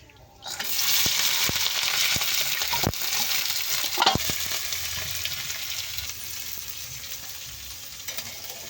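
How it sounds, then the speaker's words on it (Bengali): Whole cumin seeds, green chillies and onion hit hot oil in a pan and burst into a loud, steady sizzle that starts abruptly, with a few clinks of a spoon, then settles slightly quieter. "তেল দিয়ে দিয়েছি এবারে গোটা গোটা জিরে দিয়ে দিলাম কাঁচা লঙ্কা পেঁয়াজ"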